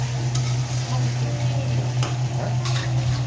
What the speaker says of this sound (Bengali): এখানে এবার আমি পরিমাণ মতো জল দিয়ে দিচ্ছি বন্ধুরা